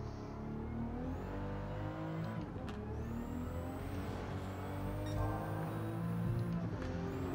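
A race car engine in Gran Turismo 7 on the Tokyo Expressway, a Toyota Supra tuned to 600 PP, drones continuously with rising and falling revs as it shifts and brakes, loud and steady throughout.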